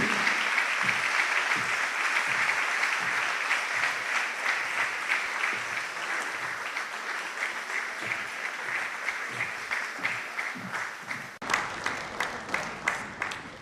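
Sustained applause from an event audience, dense steady clapping that carries on throughout and grows sharper and more distinct near the end.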